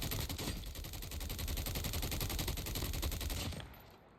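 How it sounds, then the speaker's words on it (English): Automatic gunfire rattles in the Call of Duty: Mobile battle royale, a dense continuous burst of rapid shots at close range that stops abruptly near the end. "someone was shooting at me"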